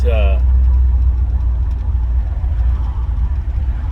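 A 1967 Mercury Cougar engine with a rebuilt carburetor and new spark plugs runs at a steady idle, a strong low rumble close by, after a brief high whine at the start.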